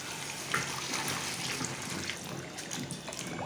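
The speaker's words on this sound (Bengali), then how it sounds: "কেটে নিয়ে ধুয়ে পরিষ্কার করে নিব" Cut elephant foot yam pieces washed under running tap water in a sink, a steady close splashing and gushing flow throughout with no talking.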